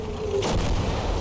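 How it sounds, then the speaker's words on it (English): A heavy cannon blast from a World War II setting in the game Call to Arms - Gates of Hell, one sharp loud boom with a rumbling tail, close and alone. "That's a freaking cannon."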